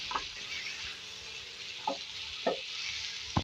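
Liver frying on a tawa with garlic-ginger paste gives a steady close sizzle throughout, broken by a few sharp scraping stir strokes of the spatula, with no talk.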